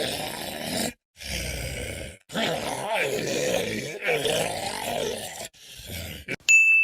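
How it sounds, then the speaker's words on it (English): Spirit Halloween Punctured Pete animatronic, a 2020 impaled-figure Halloween prop, giving off a loud continuous groaning loop with low growling roars, broken by a few brief pauses and ending in a short electronic tone. "Punctured Pete's audio doesn't match his animation whatsoever"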